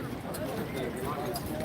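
Hooves of a very large horse at Horse Guards clop on pavement in an uneven, close rhythm while someone talks over them.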